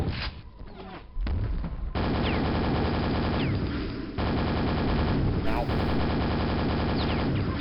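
Gunfire in the PC shooter Quake, running as a continuous, loud stream of rapid mechanical shots and bursts with short breaks, close and dense throughout. A voice talks under it.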